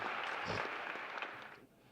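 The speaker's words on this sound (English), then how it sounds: "Let's have a round of applause for the judges" Audience applause for the judges at a county spelling bee, a steady broadband patter of many hands filling the room for about two seconds before starting to fade.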